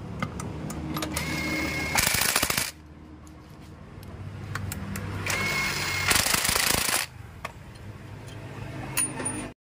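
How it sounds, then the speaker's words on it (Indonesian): Crankcase bolts being fastened on a Honda Vario 125/150 scooter engine with a power tool, two loud, sustained buzzing runs, each several seconds long, separated by quieter metallic clinks and tool handling in a workshop. "kita lanjut untuk memasang baut bak engkolnya guys ya baut 8 itu kita pasang semuanya"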